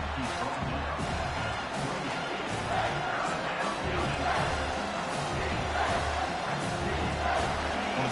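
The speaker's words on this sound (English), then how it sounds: "Third down and the crowd really getting into it." A large football stadium crowd roars continuously on a third-down play, a dense, steady wash of cheering and yelling with a broadcast commentator talking over it.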